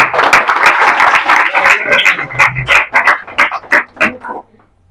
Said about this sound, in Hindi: ताली टिके मारिबा